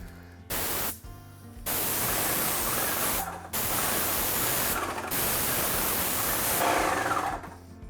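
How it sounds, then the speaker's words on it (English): A paint sprayer applies primer onto printed drywall in a kitchen renovation, hissing loudly in several long bursts separated by short silent pauses, with no talking. "I'm going to use my primer on this back wall where I have all my lovely printed drywall, and I'm going to spray"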